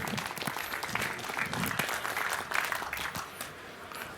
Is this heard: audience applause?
yes